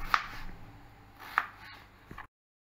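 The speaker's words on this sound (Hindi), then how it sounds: "हम ऐसे बारीक टुकड़े कट कर लेंगे।" A knife chops beetroot into fine pieces on a board, making three crisp, separate knocks spaced about a second apart in a quiet kitchen.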